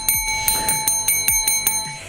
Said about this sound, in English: my favorite part of any bike is that The bell. The bell. Bring, bring, bring, bring, bring.